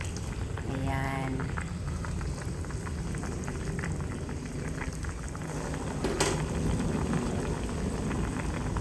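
Steady bubbling and hissing of a pot of sinigang broth at a boil, close by, with a brief clink of a utensil partway through.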